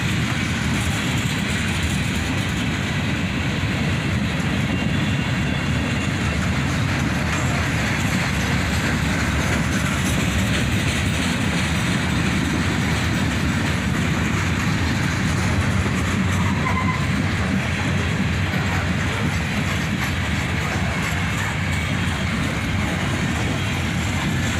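A continuous welded rail train with its unloader car rolls past close by, a loud, unbroken roar of wheels and rumbling cars that holds steady throughout.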